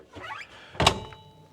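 A motorhome fridge door shuts with a single sharp, close thunk, preceded by a brief faint rattle of handling.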